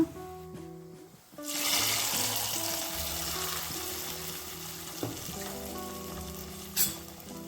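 Hot tempering hits egg gravy with a sudden loud sizzle that keeps crackling and hissing steadily, with a few clinks of a spoon stirring.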